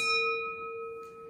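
A single tap on a container of water solution rings out with a strong, pure bell-like tone and long sustained overtones, fairly quiet and isolated, with a faint brief knock near the end.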